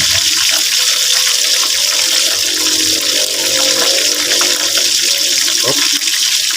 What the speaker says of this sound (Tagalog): Pwede na po tayo mag-add ng another water.